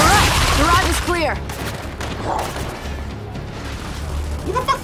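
Gunfire in the Gears 5 video game, with dense overlapping bursts and booms at close range over a busy battle soundscape; someone talks intermittently over the shooting.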